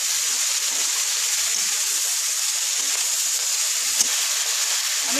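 Steady hissing sizzle of spices frying with turmeric in a pan for a fish curry, constant and close with no breaks.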